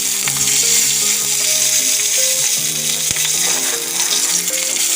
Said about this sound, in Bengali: তেল একটু দিয়েছি তো একটু শুকনো লঙ্কা একটা একটা কাঁচা লঙ্কা একটু রসুন দিয়ে দেবো